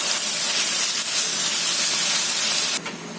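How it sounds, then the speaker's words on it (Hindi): About 300 grams of minced meat frying with ginger and garlic for keema do pyaza, a loud, steady close-up sizzle and hiss that cuts off abruptly near the end, with no talking. "कीमे को हम थोड़ी देर भून लेते हैं।"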